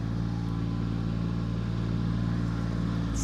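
Farm tractor driving along a road on the way back from the neighbors, its engine giving a steady low rumbling drone that stays close and constant throughout.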